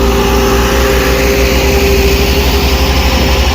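A big tractor engine roars steadily and loudly at a stunt game event in Dadyal, Azad Kashmir, with a continuous low rumble and sustained high revving and no pauses.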